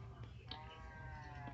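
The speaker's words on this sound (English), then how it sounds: "you could hear cows in the background" Livestock calls from cows in the Minecraft video game, a harmonic bleating or lowing tone held for about a second over steady low background noise.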